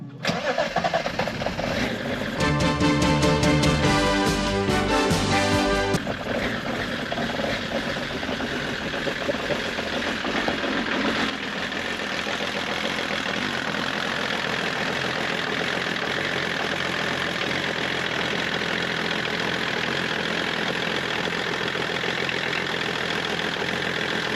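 A BMW 525 TDS diesel engine cranks with a rapid starter whir, catches and settles into a steady, rough, loud diesel idle that continues alone to the end.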